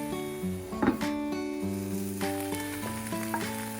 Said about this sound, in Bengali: এখন এখানের মধ্যে দিয়ে দিচ্ছি মাছ আর টমেটো, এগুলো একটু নেড়েচেড়ে ভুনা করে নেব